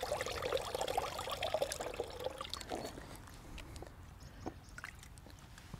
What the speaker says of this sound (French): Donc moi, systématiquement, je le rince.